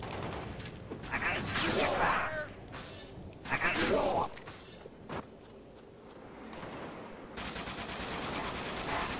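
Gunfire and a grenade explosion from the video game Halo: Spartan Assault, a dense, loud burst of rattling shots and crashing blasts that runs almost continuously, with a brighter hissing stretch near the end.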